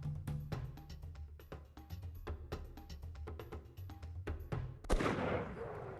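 A rifle shot cracks loudly near the end of a hunt for aoudad and javelina in Texas, ringing out after several seconds of quieter rustling and faint clicks.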